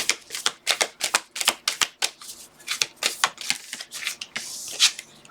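Oracle cards are shuffled for a card reading in a quick run of crisp, close riffling bursts, each sharp flutter separated by short pauses, with no voice.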